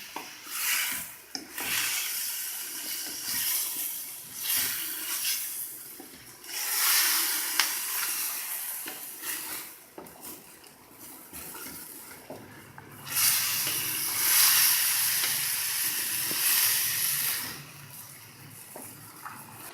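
Onions and tomatoes fry in a pan for chicken karahi, giving a steady broadband sizzle and hiss that swells louder in stretches, with faint scraping between surges and no one talking.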